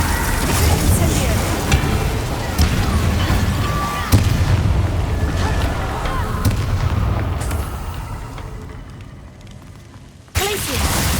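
Spell effects in the Hogwarts Legacy video game: a run of sharp blasts, crackles and booming impacts over a dense rumbling bed, fading near the end before one last loud hit.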